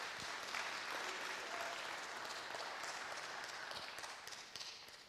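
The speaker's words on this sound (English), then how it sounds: "Give her a round of applause" Applause at a church gathering for the building's cleaner, a sustained, fairly quiet wash of many hands clapping at once, even and continuous for several seconds.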